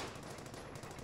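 M1 Garand rifle fire in a World War II video game comes as a quick, faint run of repeated shots with sharp, evenly spaced cracks, heard alone.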